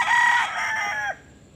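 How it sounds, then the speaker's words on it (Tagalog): A rooster crows once close by, a loud drawn-out call that ends abruptly, followed by quiet. "So ayan po ang ating tandang mga kaibigan."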